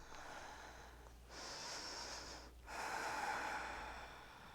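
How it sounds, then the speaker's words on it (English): Deep breathing during a yoga session: two long, close, airy exhales, each rising after a short pause, with a faint low hum underneath and no talk. "Breathing deeply."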